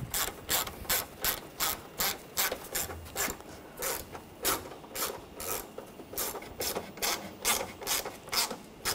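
A socket ratchet tightens bolts on the camshaft position sensor of a 2013–2019 Ford Escape, giving close, crisp bursts of rapid clicking in a steady rhythm, about a dozen strokes with short pauses between.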